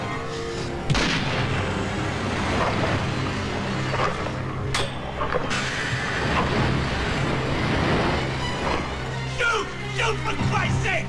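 Gunfire in a film scene, with dense bursts of shots and heavy booms over a constant loud rumble while voices shout urgently throughout.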